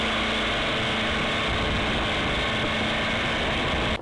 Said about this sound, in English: the low rumble of a bulldozer's engine rises